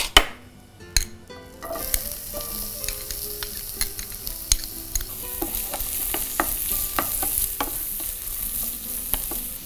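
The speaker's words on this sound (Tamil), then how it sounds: "இப்போ எண்ணெய் சூடானோடனே நறுக்கி வச்சுருக்க வெங்காயத்தை சேர்த்துக்கோங்க." Chopped onions hit hot oil in a pan and set off a steady, close sizzle, broken by the scrape and clatter of stirring, with no talk.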